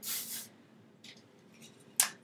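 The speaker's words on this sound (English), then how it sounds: "Then to keep all those knots and like rats in, then I spray it one more time" Two or three short hissing sprays of an aerosol hairspray, close by, with a quiet pause between bursts and a final sharp spritz.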